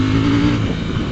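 KTM 790 Duke engine revving on a snatchy throttle with traction control off and wheelie mode engaged, a brief close burst of rising, rasping engine roar with no talking.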